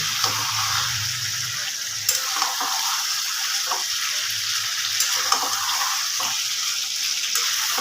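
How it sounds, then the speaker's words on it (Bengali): Chicken pieces coated in spices, ghee and sugar fry in a pan over a raised gas flame, sizzling steadily while a spoon scrapes and stirs in irregular knocks, close and without speech. "গ্যাসটা একটু বাড়িয়ে দিয়ে মাংসটা আমি আরও একটু নাড়াচাড়া করে নেব"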